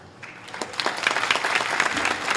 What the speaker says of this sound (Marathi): टाळ्या नका वाजू